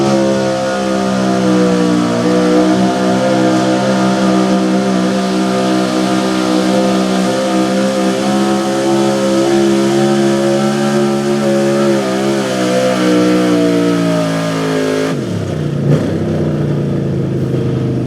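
A Ford small-block high-output 4x4 pulling truck roars at a night truck pull in Lebanon, its engine held at high, steady revs for about fifteen seconds with shifting harmonics before the pitch abruptly drops near the end.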